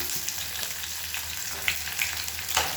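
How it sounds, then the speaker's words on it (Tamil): Onions and garlic sizzle steadily in hot oil in a pan while a kulambu is being cooked, a continuous close frying hiss with a few faint stirring taps and no talking. "அந்த வெங்காயம் பூண்டு நல்லா வதங்கிட்டு இருக்கு"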